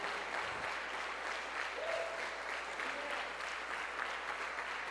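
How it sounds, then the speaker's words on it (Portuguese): A church congregation applauds at a steady, sustained level, the dense clapping filling the space throughout with faint tones and murmurs beneath. "Dá forte o teu aplauso. Será que você pode ficar de pé e aplaudir?"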